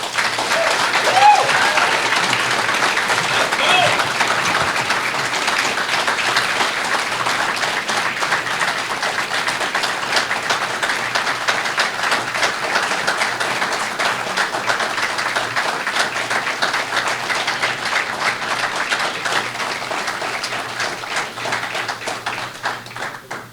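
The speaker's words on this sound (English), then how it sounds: "Please, round of applause for him." Sustained crowd applause welcoming a new coach at a press conference, dense steady clapping from many people lasting over twenty seconds and fading slightly near the end.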